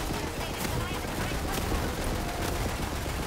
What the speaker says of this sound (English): as I fire the corrosive bolts, random elemental orbs of various elements just start spawning out of my gun